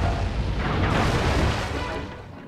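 Ship cannon firing in the video game Sly 3, a single heavy, booming blast with a long rumbling decay, loud and alone with no talk.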